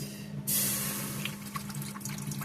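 Bottled store-bought water pours steadily into a cooking pot for pasta, a close, continuous splashing and trickling stream with a low steady hum underneath and no talk.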